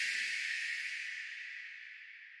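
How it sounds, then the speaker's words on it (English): Deer Hooves African shaker sample from Contact, stretched out and drenched in reverb, a soft sustained airy hiss that slowly fades away, alone. "the first one is actually a sample from Contact, and it's called Deer Hooves"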